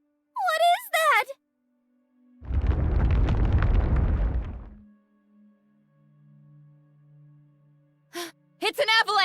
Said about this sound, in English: It's an avalanche!